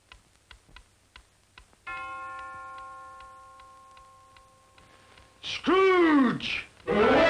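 A clock bell strikes once with a long ringing tone, preceded by steady soft ticking, then a voice speaks over the fading chime.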